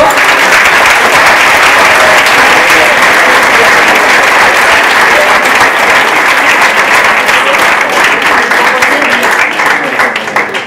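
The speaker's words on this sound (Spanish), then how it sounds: "Le vamos a dar un fuerte aplauso a Tito." A live audience applauds a speaker named Tito at a talk on the machinery of the Atacires, with sustained, dense clapping that fills the space at steady loudness before easing slightly at the end.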